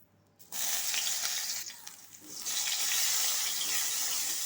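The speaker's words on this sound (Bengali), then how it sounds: "ভেজে নিচ্ছি শুটকিটাকে একটু," Dried koi fish hits hot oil in a wok and sets off a steady, loud, close sizzle. The hiss swells after a brief dip and then holds constant.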